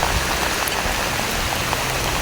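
Heavy rain falls on flooded rice paddies in Laos as a dense, loud, constant patter and hiss close by, with no voices.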